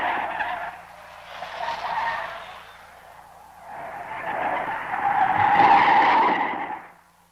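Car tires skid and squeal in two long, loud bursts, the second rising to a sharp peak before fading, with no voices over them.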